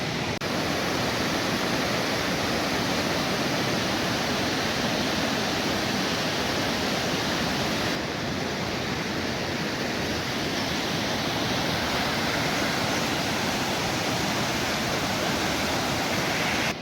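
Rushing river water at the confluence of the Dhauliganga and Alaknanda rivers at Vishnuprayag in Uttarakhand, a steady, loud broadband roar like a waterfall that fills the whole stretch without any voices.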